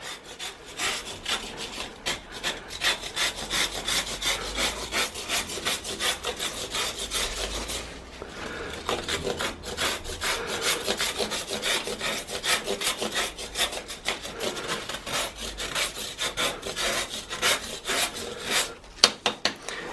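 Chalk sticks are scraped across an old metal cheese grater in a long run of quick, rasping back-and-forth strokes, close and fairly loud, with a brief pause partway through before the grating resumes.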